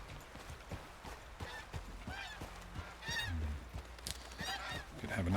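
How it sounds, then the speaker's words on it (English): A goose in a video game gives a series of harmonic honks of varying loudness over a busy ambient background, with a few deeper calls toward the end. "Could have a nice goose for dinner."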